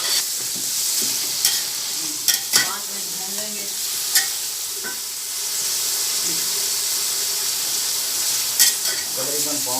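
Biryani masala frying in a large pot, a continuous loud sizzle and hiss with occasional sharp clicks of a spoon against the metal, heard close and without talk.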